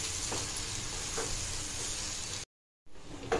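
Leftover chapati chivda with crushed peanuts and coriander sautéing in a pan, a soft steady sizzle with faint stirring, broken by a brief silent gap before the frying resumes.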